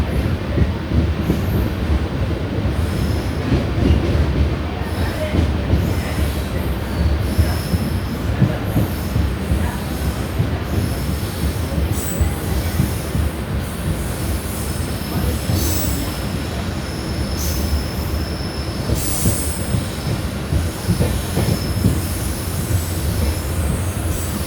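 The Mangaluru Mumbai Superfast Express runs through a station loop line, heard from inside the carriage as a loud, steady rumble with rattling wheels, rhythmic clacks and occasional high metallic squeals.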